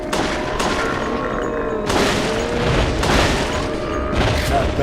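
Gunfire from Resident Evil: The Darkside Chronicles sounds as loud, booming shots in dense bursts, with several heavy blasts standing out over a constant noisy game background.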